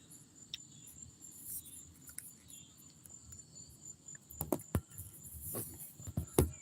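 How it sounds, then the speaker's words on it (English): Cicadas drone in a steady, high, continuous buzz in a city park, moderately faint and unbroken, with a few sharper knocks and rustles standing out near the end. "Now, them cicadas are starting to kick up a little bit more."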